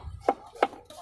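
A knife chops potatoes on a board for a fried potato snack, giving two crisp, evenly spaced thuds close by with no voices.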